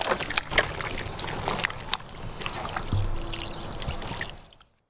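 Georgian wine poured over soaked meat for grilling ostrich, crocodile and snake, a close liquid gurgle and trickle with clinks and splashes that fade out at the end.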